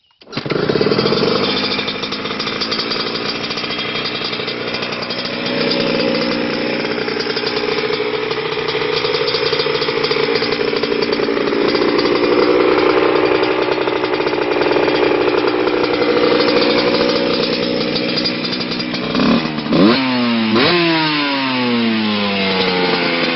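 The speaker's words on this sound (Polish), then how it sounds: "Posłuchajcie jeszcze dźwięku silnika, zobaczymy jak to brzmi." A motorcycle engine idles and runs steadily for a long stretch, loud and close, then revs up sharply a few times near the end.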